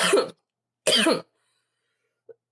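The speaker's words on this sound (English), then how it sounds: "I keep coughing when he's talking" Two distinct coughs, close and fairly loud, separated by a pause, followed by a faint small throat sound.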